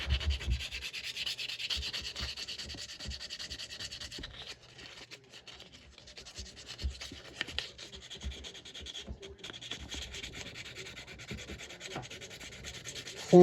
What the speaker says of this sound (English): So get your fine grit sandpaper and just start sanding on it.